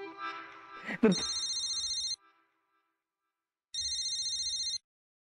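A phone rings with a bright electronic tone, two bursts separated by a short pause, preceded by a brief rustle and a knock.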